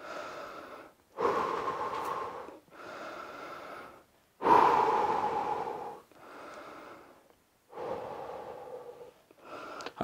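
Forceful breathing and snorting exhales during an at-home workout set, several strong close breaths in uneven bursts separated by short pauses, no talking.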